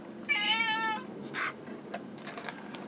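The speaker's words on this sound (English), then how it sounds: "my noisy cat wanting outside." A house cat gives one clear, close meow while wanting to go outside, followed by faint rustling in a quiet room.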